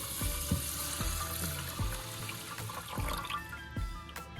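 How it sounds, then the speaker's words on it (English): Chicken broth pours steadily into a dish of rice, a soft continuous splashing with a few louder thuds and clunks along the way. "I'm going to pour my chicken broth into my"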